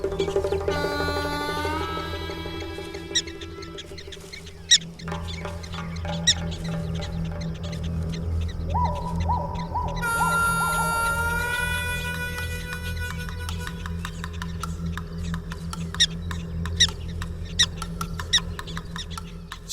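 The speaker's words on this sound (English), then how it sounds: "As soon as the prairie dog spots a predator, she sounds the alarm." A prairie dog sounds an alarm call on spotting a coyote, giving sharp, high chirping barks repeated in bursts, followed by scattered shorter calls over a steady low background hum.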